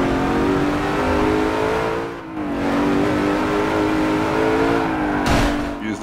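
A 1000-horsepower race car engine in Forza Motorsport 7 drones loudly and steadily, dipping briefly as the revs shift, then climbing again with a sharp transient near the end.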